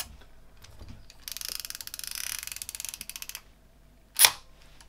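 The back of a Zenit TTL 35mm manual film camera is handled, with a long run of rapid, close ratcheting mechanical clicks followed by a single sharp metallic snap.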